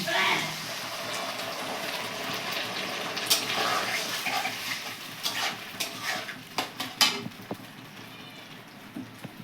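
Water is poured into a hot pan of chilli chicken, a rushing splash and hiss that settles into bubbling, stirring and scattered clatter against the pan, with a voice talking over it.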